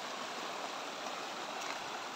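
A stream or creek at a property boundary in Barangay Lubayat, Real, Quezon, flows with a soft, continuous rushing and burbling. It sounds quiet and even, with no voices over it.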